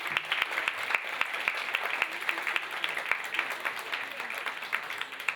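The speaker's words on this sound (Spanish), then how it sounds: "Ahora sí hay que darle un aplauso a la ponente, por favor." Audience applauding a speaker at a talk on obstetric violence: brisk, sustained clapping from a room of listeners, with sharp individual claps standing out against the steady patter.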